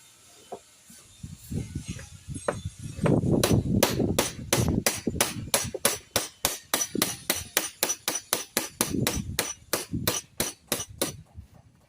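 Hammer forming a metal rear panel for a Simca Aronde, starting with scattered taps and scraping and then settling into a steady run of sharp, ringing metallic blows close by, with no talking.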